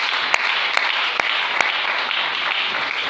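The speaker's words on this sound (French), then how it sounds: "Est-ce qu'on peut acclamer le Seigneur?" A church congregation applauding the Lord, a dense steady wash of clapping with scattered sharper claps and cheers rising above it, sustained throughout.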